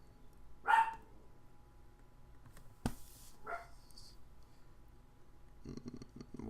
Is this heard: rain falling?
no